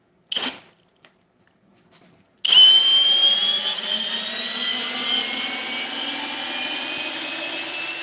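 A cordless Milwaukee, DeWalt or Ridgid power drill gives a couple of short bursts, then spins up for a long steady high-pitched whine that slowly eases in pitch as the motor winds down.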